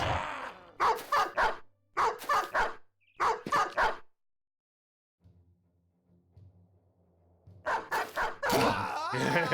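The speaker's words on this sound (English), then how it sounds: "Now he's gonna get torn apart by dogs." Dogs in the Battle Brothers video game bark and yip in quick clustered bursts, then a low rumbling growl follows a brief quiet gap, and more sharp barking returns at the end.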